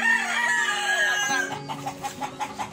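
A free-range chicken clucks and crows while being bathed for a skin condition, with a sustained crowing call followed by a rhythmic run of short clucks, close and clear.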